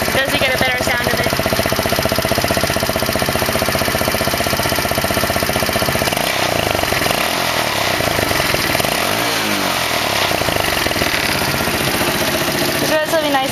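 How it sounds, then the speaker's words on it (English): An X18 Super Pocket Bike midbike engine idles up close, a continuous rattly buzz with a slight rise and fall in pitch around the middle, heard alone from start to finish. "So this is the sound of my bike."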